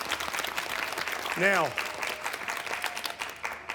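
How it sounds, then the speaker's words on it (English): Children and crew give a round of applause on a MasterChef Australia cooking set, the clapping rippling on under an excited exclamation and a voice starting to speak. "Round of applause"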